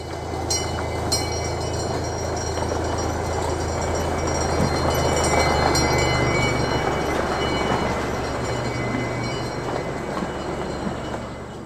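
Zoo train ride with a steady rumbling of the train rolling along, continuous and fairly loud throughout, with faint high squeaks and clicks over the running noise.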